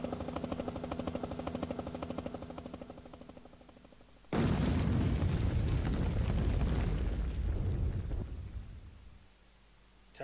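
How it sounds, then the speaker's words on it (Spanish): In a fan-made first-person remake of Resident Evil (1996), a sudden loud explosion bursts in after a quieter droning rumble, then its dense roar decays over several seconds into a low fade. "¿Se ha escuchado como una explosión?"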